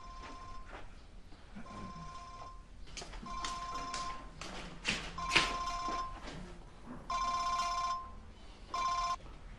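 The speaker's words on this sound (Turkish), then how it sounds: "Telefonu çalıyor." A telephone rings in a Turkish TV drama, several bursts of bright electronic ringing separated by short gaps, moderately loud over a quiet indoor background.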